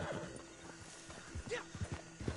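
Horse hooves clip-clop at a steady trot amid game background noise in Red Dead Online, with an occasional snort or whinny mixed in.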